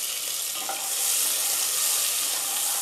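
Onions fry in hot oil in a pan for a Bengali-style mustard fish curry, giving a steady, loud, close sizzle that builds slightly and stays constant without any talk.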